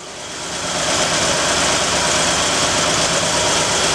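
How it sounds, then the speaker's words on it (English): A 1967 Ford Galaxie with a carbureted 289 V8 idles steadily, a dense, constant rumble that swells in over the first second and holds loud and close with no talking. "So the car's been idling for about 10-15 minutes now."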